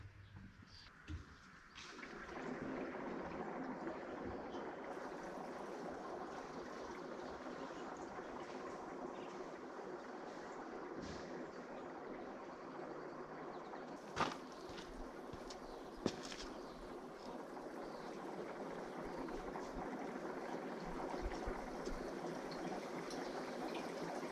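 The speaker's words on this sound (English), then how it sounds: "Looks like that's bubbling along pretty good. I just got it hooked to my shop air compressor." Compressed air from a shop air compressor bubbles steadily through a batch of worm tea, a continuous close gurgling and fizzing hiss with a few louder pops.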